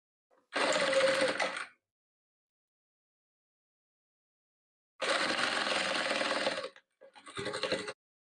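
Sewing machine stitching patchwork quilt rows together, close and clear in three separate runs of fast steady whirring, the first and second lasting about a second or more, with silence between them.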